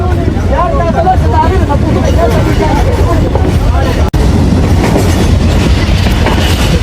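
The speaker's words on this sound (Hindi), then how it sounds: "one up Khyber mail Wazirabad junction पर पहुंचने वाली है" Pakistan Railways Khyber Mail passenger train running at night, a steady loud rumble with rhythmic clattering of wheels over rail joints and faint voices inside the carriage.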